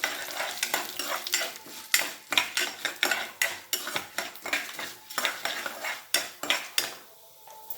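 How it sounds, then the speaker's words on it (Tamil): Urad dal and chana dal roast in a pan for savoury kozhukattai, stirred with a ladle in quick rhythmic scraping strokes over a light sizzle, close and fairly loud, with no voices. "உளுத்தம்பருப்பு கடலப்பருப்பு இதை நல்லா வறுத்துக்கணும்"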